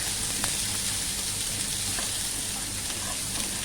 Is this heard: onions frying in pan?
yes